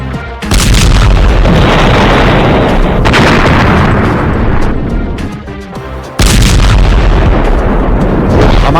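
A heavy explosion destroys a mine-clearing bulldozer in Gaza, a sustained loud roaring blast with a second sharp boom partway through, no voices heard.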